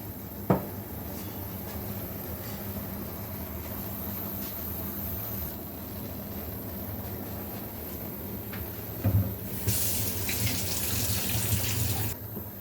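Water poured into a pot while preparing catfish pepper soup: a steady running-water wash throughout, with a brighter, louder pour near the end and a few clinks, no talking.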